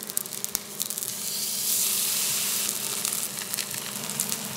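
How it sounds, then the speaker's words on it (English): A steak's fat cap renders as it sears in a hot cast iron skillet, giving a loud, continuous close sizzle and crackle with a steady hiss, swelling briefly in the middle, with no voices. "I'm trying to render this fat right here so we can cook it in its own fat."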